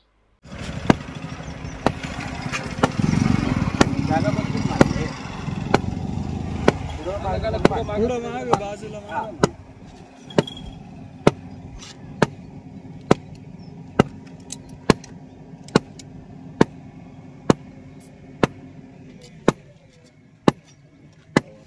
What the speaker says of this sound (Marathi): जरा जोरात मारा ना हातोडे मग कळेल काय होते ते